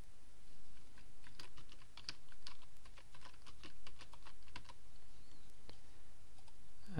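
Fingers type a blog post on a computer keyboard, giving a fast, uneven patter of close key clicks that runs continuously without any talking.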